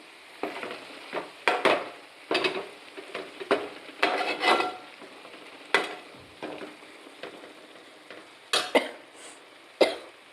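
A spatula scrapes and stirs boiled potato curry in a frying pan in about a dozen short, uneven bursts, close and fairly loud, over a low steady sizzle with no talking.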